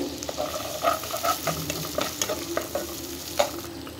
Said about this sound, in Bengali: এক চামচ করে আদা রসুনের পেস্ট তারপরে ভালো করে আবার মিক্স করে নিব একটু ভেজে নেব মশলাটাকে